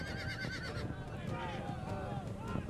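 Horses in a Mongol war camp in Age of Empires II whinny and neigh at the start, with hoof clip-clop and a busy camp murmur continuing underneath throughout.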